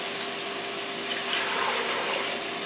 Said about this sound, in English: First what we're going to do is going to add our water.